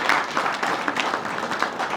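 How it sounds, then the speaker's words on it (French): An audience applauds in a hall, a close, dense burst of clapping with uneven individual claps standing out throughout. "Merci pour vos applaudissements, une fois de plus."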